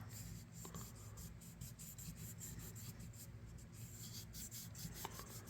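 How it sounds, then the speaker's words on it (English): A small scrap of fine-grit sandpaper rubs lightly on a vintage Imperial Ireland Kamp King pocket knife, giving a soft, quiet scratching of rapid short strokes close up with no talk. "sand just a little bit"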